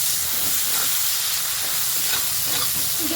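Onions fry in hot oil with a constant, close sizzling hiss and no pauses.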